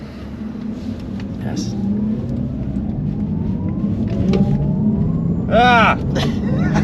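A 2022 Audi RS e-tron GT electric car accelerates hard with a steady road and motor roar and a rising electric whine, heard from inside the cabin while a passenger exclaims and laughs.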